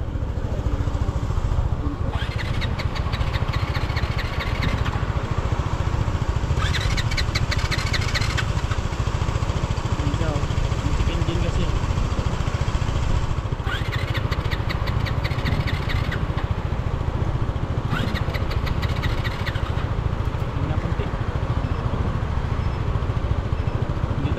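A motorcycle engine runs steadily and loudly throughout, with a continuous close-up drone and repeated bursts of higher-pitched whine, on a roadside in Taiwan.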